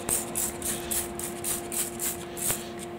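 Short repeated hissing spray bursts of leak detection solution on a wood gasifier reactor, in a steady rhythm, close by, over a faint constant hum.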